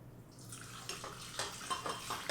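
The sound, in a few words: cup of warm filtered water poured into mixer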